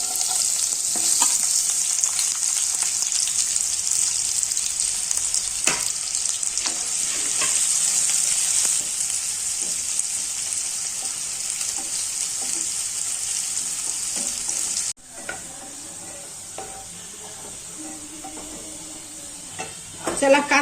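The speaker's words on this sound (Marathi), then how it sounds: "चला तर कांदा परतून घेऊ पहिले" Onion sautéing in a pan for a masala paste for stuffed bitter gourd makes a steady close sizzle with occasional stirring scrapes, dropping briefly quieter after a cut before the frying resumes.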